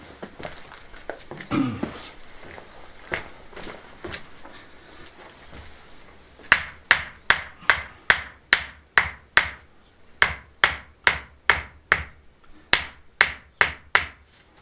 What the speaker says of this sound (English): Give it a tap. Where's the hammer?